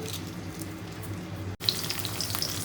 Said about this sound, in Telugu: ఈ ఉల్లిపాయలు ఇలా వేగుతూ ఉంటాయి